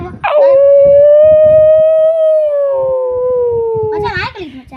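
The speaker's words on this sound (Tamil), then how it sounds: "இந்த அங்கே நாய் இருக்கு பத்தியா, அந்த நாயத்தான் இருக்கும்" A dog howls loudly and close, one long sustained wail that slowly falls in pitch before breaking off, with faint background noise underneath.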